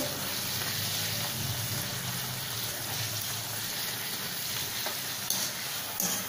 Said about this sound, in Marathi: तळून घेते अशा सगळ्या.